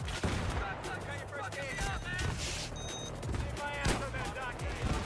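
Gunfire in Battlefield 3, where a Magnum pistol is in use: repeated sharp shots ring out among scattered battle noise and other weapons, with a voice talking throughout.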